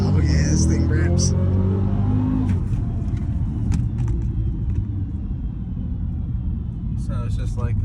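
A Cadillac CT5-V with a 15-inch conversion accelerates hard with a loud, steady engine roar and road rumble heard from inside the car, while people talk over it.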